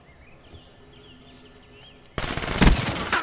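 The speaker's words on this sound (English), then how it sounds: "Thanks for shooting at me." Call of Duty Black Ops 3 gunfire in a 1v1 match erupts after a quiet stretch of faint game ambience as a loud, sustained burst of rapid shots close to the listener.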